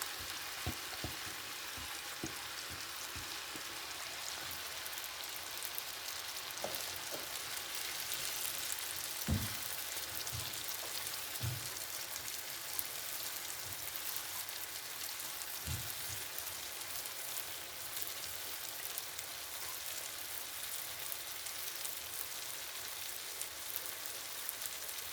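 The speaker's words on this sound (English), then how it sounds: "I'm going to add the vegetables." Vegetables sizzle steadily in a hot pan while shrimp ramen is being cooked, a continuous close crackling hiss with a few sharper pops and stirring knocks scattered through it, and no talking.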